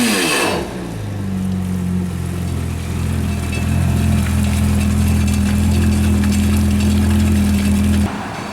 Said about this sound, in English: what I'm usually going to go listen to is the bearing spinning on the supercharged, just to make sure you hear them spin when she slows back down